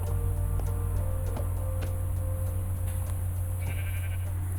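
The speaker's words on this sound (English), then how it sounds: "That's a sheep." A single Minecraft sheep bleat sounds over a steady low electronic hum, with faint clicks scattered around it.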